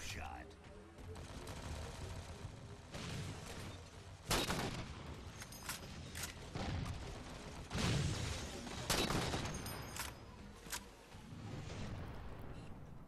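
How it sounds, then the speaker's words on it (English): Sniper rifle and other gunfire in Halo 4 multiplayer on the Complex map: a run of loud, sharp shots spaced a second or two apart over constant game noise, with heavier blasts and scattered chatter. "I'm gonna wreck this ghost with my sniper rifle"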